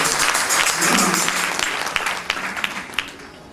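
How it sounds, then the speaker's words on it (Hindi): An audience at a Bhagwat religious discourse applauds to welcome a visiting swami, a full, steady patter of many hands that gradually thins out, with a few louder individual claps standing out near the end. "सब लोग तालियों के साथ उनका अभिनंदन करेंगे।"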